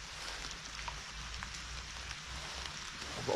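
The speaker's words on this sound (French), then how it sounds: "Voilà les amigos, la pluie annoncée est là." Rain falls outdoors as a soft, constant patter of drops on leaves and ground, quiet and even with scattered individual taps.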